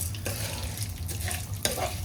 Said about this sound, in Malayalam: നെയ്യ് ഒഴിച്ച് പരിപ്പ് വറുത്തെടുക്കാം.